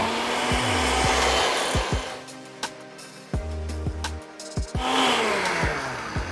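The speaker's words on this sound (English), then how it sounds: "Back onto the blender we go." A blender whirring through avocado, lime zest and juice, and cilantro in a kitchen, running in several loud bursts that stop and restart, with sharp clunks between pulses and no talk.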